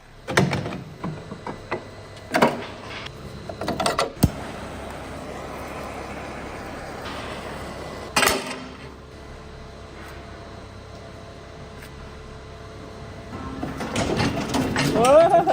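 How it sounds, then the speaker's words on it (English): Grinder trimming a cow's hoof claw to level it flat, a steady whirring drone running beneath scattered knocks and clunks, with a louder rising whine near the end. "I still need to grind it down slightly to make sure the area is completely flat"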